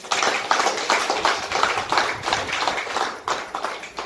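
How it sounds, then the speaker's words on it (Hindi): An audience claps for a safe shop business leader at an event in India, loud and close, in uneven rhythmic bursts that pulse roughly twice a second with a brief dip near the end. "अपने लिए जोरदार ताली"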